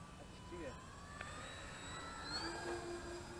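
The faint, high whine of a small radio-controlled model airplane's motor rises and falls in the distance while people talk nearby.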